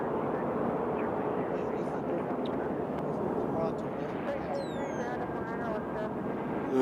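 An airplane arriving at Nashville International Airport gives a loud, steady jet roar heard from outdoors, with voices talking over it.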